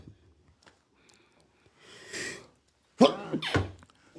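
A single sharp sneeze after a brief quiet intake of breath, close and fairly loud, followed by a short snort-like exhale.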